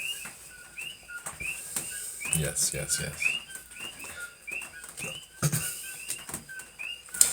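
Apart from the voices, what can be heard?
coqui frogs calling in the background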